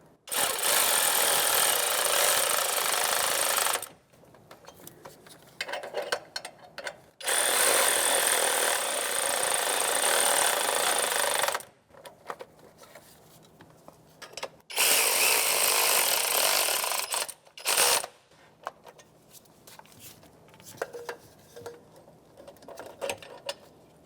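A power tool snugs the exhaust manifold bolts on a 1992-1996 Ford F-150 in several loud buzzing bursts of a few seconds each, separated by quieter gaps with small clinks and handling noises.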